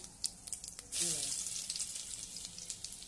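Curry leaves crackle and sizzle in hot oil with cumin seeds inside a pressure cooker, a busy spitting fry that swells suddenly and keeps popping, close and fairly soft.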